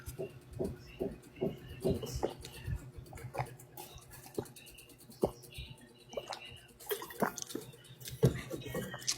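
Water dripping and splashing in an irregular series of soft, quiet drops and small spatters, scattered over several seconds with faint background noise.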